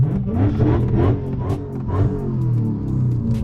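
A car revs hard with its wheels spinning, the engine rising and falling in loud, rough surges over a continuous deep rumble close by.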